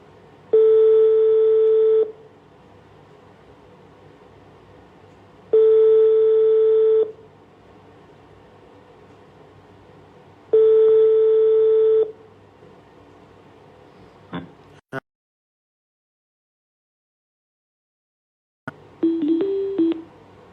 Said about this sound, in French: j'essaie de joindre Love Gugu en vain